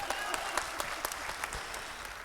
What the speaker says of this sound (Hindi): एक बार ताली बजाओ साहब सर